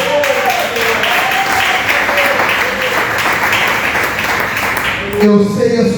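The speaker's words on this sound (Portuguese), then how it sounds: "Aleluia, palmas do Senhor." A church congregation applauds together, dense continuous clapping close and loud, with a voice speaking over it near the end.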